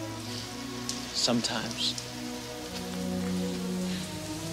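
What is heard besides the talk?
rain falling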